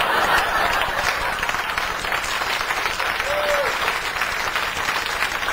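Audience applause at a stand-up comedy show, a dense steady wash of clapping from a crowd, sustained throughout at moderate loudness with scattered faint vocal sounds.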